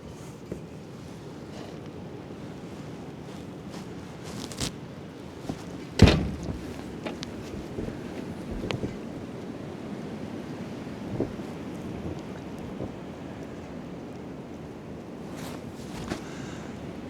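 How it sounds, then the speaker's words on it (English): Storm wind gusting with waves rolling in at a campsite, a continuous low rushing roar with occasional sharp knocks and flaps, no talking. "I'm gonna sit back and watch this storm roll in"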